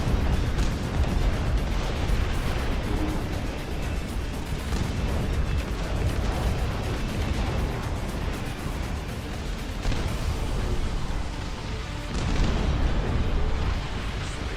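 Howitzer artillery in a real-time strategy video game fires in a dense, continuous barrage of booms and blasts, loud and sustained throughout with only brief dips in intensity.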